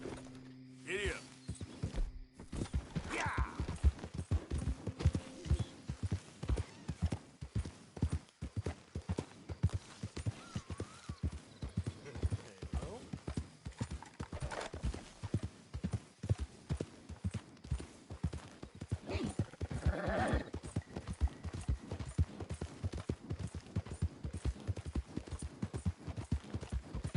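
Steady clip-clop of horse hooves in Red Dead Redemption 2, a continuous trotting rhythm of thuds heard close, with a brief voice near the start and faint background game sounds.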